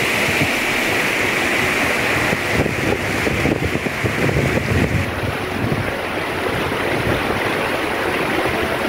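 Waterfall at Dunseverick Falls on a rocky coast, where the stream runs down into the sea: a steady, loud broadband rush of falling water with wind buffeting the microphone, continuous throughout with no voices.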